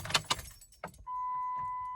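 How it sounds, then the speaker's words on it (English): Car started after keys jangle and clatter close by, followed by a steady, faint engine hum that carries on to the end. "Let me turn on my car"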